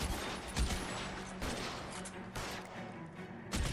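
Gunfire in the L.A. Noire video game, rapid covering shots crackling in bursts throughout, heard faintly and at low level.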